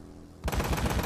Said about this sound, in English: I'm really putting a lot of bullets into this guy.